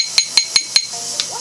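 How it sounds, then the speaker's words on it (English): A small jeweler's hammer pecks at the weld of a ring being sized, giving four sharp, bright metallic taps at an even pace and then one fainter tap, close up and with no talk. "I'll take my little hammer there and I'll peck on my weld."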